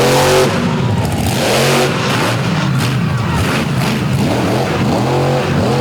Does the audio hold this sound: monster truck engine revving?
yes